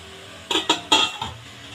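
A metal lid settles onto a pot of rice, lentils and chicken for khichuri: three quick close clanks followed by a softer clink.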